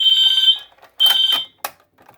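A smoke detector alarm sounds during a fire alarm system test, giving two loud, piercing high-pitched tones, each about half a second long, followed by a short sharp chirp, close by, with no talk.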